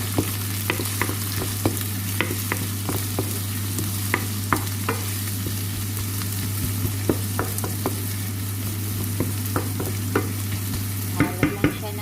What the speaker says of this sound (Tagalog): Halo lang siya ng halo, guys.